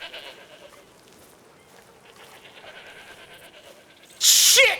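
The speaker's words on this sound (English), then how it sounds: "I'm stuck herding goats." Goats bleat while being herded in the RedM video game, with a few faint bleats under quiet background sound before one loud, close bleat near the end.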